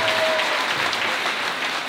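A church congregation applauds with a continuous, dense patter of many hands clapping together, steady and fairly loud throughout, and no voices standing out.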